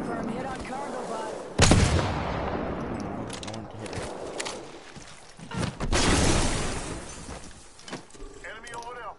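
Gunfire in Apex Legends, a few loud broadband shots and bursts spread across the clip over a busy game soundscape, with a voice speaking at times.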